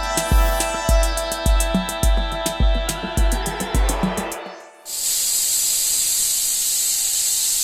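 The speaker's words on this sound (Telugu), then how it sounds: "ఒక 7-8 విజిల్స్ వచ్చేదాకా ఉడకబెట్టుకోవాలి" A pressure cooker boiling boti lets out a series of rhythmic puffing chugs from its whistle, then breaks into a loud, steady, close hiss of escaping steam.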